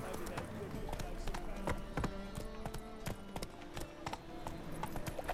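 Geralt's horse Roach running in The Witcher 3: Wild Hunt, a steady fast rhythm of hoofbeats clopping close and loud throughout, with faint jingling tack and background game ambience.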